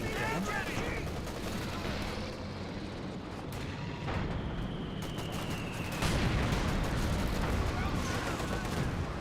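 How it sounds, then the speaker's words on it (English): Rapid, dense gunfire and heavy booming shots from a KV-8 tank in the real-time strategy game Company of Heroes 2, a continuous battle din of repeated blasts with no talk over it. "KV-8 firing away."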